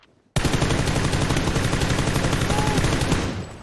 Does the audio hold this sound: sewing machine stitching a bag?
no